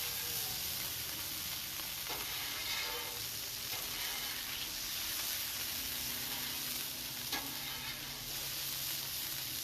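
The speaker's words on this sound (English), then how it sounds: "this is effectively cooking in its own juices" Smashburgers cooking in their own grease and fat on a griddle, a steady, even sizzle and hiss throughout, with a couple of faint clicks of a spatula, no talking.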